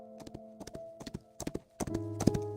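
Horses trot through a forest in a video game, their hooves knocking in quick uneven clusters of clip-clop beats, close and fairly loud over a steady musical tone, with no talking.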